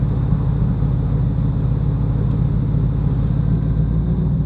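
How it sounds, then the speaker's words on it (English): A car engine holds a steady low rumble while the accelerator is pressed gently to raise the revs a little, heard close and continuous without talk. "So I'm just going to put my foot on the accelerator, have it down a little bit"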